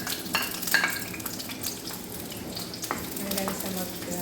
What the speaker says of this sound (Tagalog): Binigisa ko yung mga sahog.